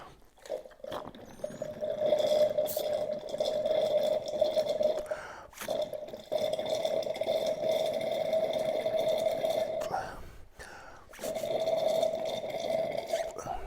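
Breath blown through the diverter pipe of an Enagic water ionizer to clear out leftover water makes a close, breathy, whistling gurgle, sustained in three long bursts separated by brief pauses.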